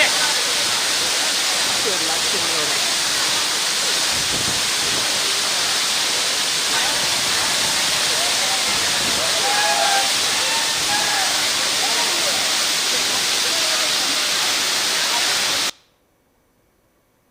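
Water rushes in a loud, continuous roar from the Tunga Dam release near Shivamogga after heavy rainfall, a steady broadband torrent that cuts off abruptly near the end.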